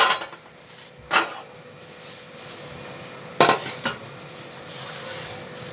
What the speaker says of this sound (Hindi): इसी तरह आपने इसे मिक्स करना है सारी साइडों से अच्छी तरह